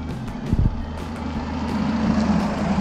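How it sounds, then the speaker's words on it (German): A vehicle rumbles past on a road in rural Bavaria, a low steady engine drone that swells gradually, with a few brief thumps near the start and no talk. "Wir warten jetzt, bis das Auto vorbei ist."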